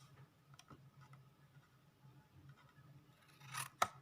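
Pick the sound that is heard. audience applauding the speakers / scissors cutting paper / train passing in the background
scissors cutting paper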